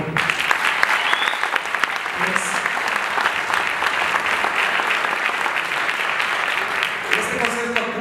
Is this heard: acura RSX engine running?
no